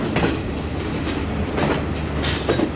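A passenger train travelling from Kandy to Ella in Sri Lanka rolls steadily along the rails with a loud, constant rumble and a few rhythmic clacks from the wheels.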